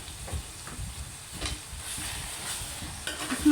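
A spoon stirs tomato and chicken qeema masala in a pan, a soft low sizzle with muffled scraping strokes, brief and close, no one talking.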